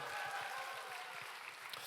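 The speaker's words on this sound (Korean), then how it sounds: "네, 우리 박수하겠습니다." A church congregation claps together in a quick rhythmic applause, heard at a moderate level for a couple of seconds.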